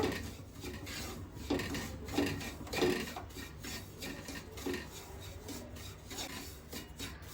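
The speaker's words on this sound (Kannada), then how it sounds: "ಚಿರೋಟಿ ರವೆ ತೊಗೊಂಡಿದ್ದೀನಿ ನೋಡಿ ಎಣ್ಣೆಗೆ ಹಾಕೊಂಡು ಇವಾಗ ಚೆನ್ನಾಗಿ ಇದನ್ನು ಕಪ್ಪಗೆ ಹಾಕ್ದಂಗೆ ಕೈ ಬಿಡ್ದಂಗೆ ತಿರುಗಿಸ್ತಾನೇ ಇರಬೇಕು" Chiroti semolina stirred in oil in a pan over a low flame, giving a steady rasping scrape of utensil against pan with soft rhythmic strokes, fairly quiet and continuous with no talk.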